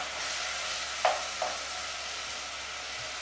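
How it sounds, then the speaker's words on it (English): Meat frying in a pan on low heat and being stirred with a couple of faint scrapes, a soft steady sizzle underneath, no talking. "gently move the meat around"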